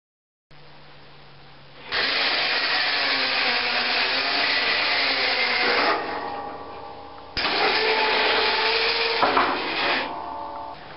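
Electric lift on a SnowBear personal snow plow raising and lowering, a steady motor whine that starts, runs for several seconds, stops briefly, then runs again, close and loud with no talking.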